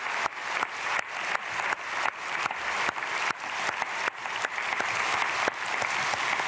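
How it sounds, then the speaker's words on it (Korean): A church congregation applauds in blessing for a family at a Korean dawn prayer service, steady dense clapping filling the room throughout with no voices over it. "가정 위해서 우리 축복의 박수 보내겠습니다"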